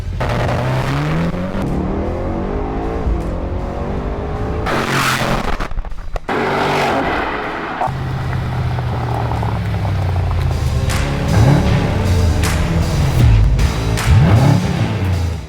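A Mercedes-Benz AMG GT63 S fitted with a new aftermarket exhaust and power mods is driven hard, its engine revving and roaring through repeated accelerations and gear changes, with tire noise and loud surges over fifteen seconds.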